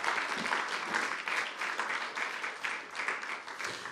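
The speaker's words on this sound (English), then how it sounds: "I think we should give God a clap offering because that is absolutely amazing" A church congregation gives sustained applause as a clap offering during a Sunday service, a steady, moderately loud patter of many hands clapping with no voices above it.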